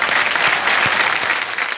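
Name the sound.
audience applauding at Filmfare awards show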